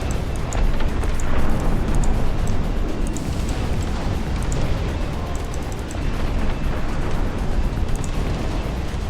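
Howitzers fire in a Dust Front battle against mutants, a dense, continuous rumble of booming blasts and bursts layered together, loud throughout with little letup.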